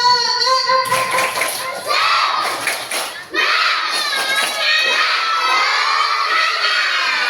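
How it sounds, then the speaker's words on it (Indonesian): A crowd of primary schoolchildren, grades one to six, cheer and shout loudly together in sustained bursts, with a little clapping mixed in under the high, excited voices. "Tepuk tangan."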